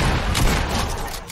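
AK rifle fire in the Fortnite video game comes as a loud, dense burst of rapid shots that fills the short stretch without a break.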